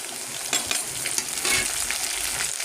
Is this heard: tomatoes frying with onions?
yes